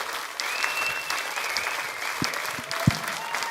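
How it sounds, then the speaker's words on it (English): A live audience claps in a dense, sustained burst of applause lasting the whole stretch, steady and fairly close, with a few louder individual claps standing out. "give another big round of applause to David Farmer"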